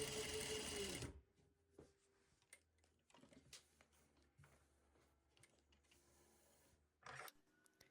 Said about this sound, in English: You should be sewing through 3 layers: this new scrap, which is face down, the last scrap, which is face up